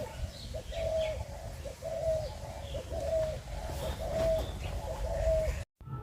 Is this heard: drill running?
no